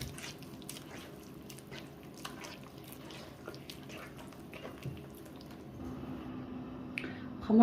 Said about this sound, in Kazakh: біркелкі жұмсақ қамыр илеймін